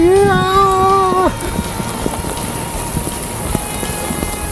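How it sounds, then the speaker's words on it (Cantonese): Heavy rain pours during an outdoor running race, a steady dense hiss with scattered patters that follows a brief loud vocal cry at the start. "好大雨啊！"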